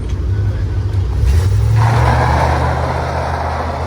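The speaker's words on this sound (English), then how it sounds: "You just gotta hold your foot on the gas, just let the tires burn." A car engine revs hard and steadily during a burnout, the tires spinning on the spot, loud and close with a rising, sustained roar through the middle of the clip.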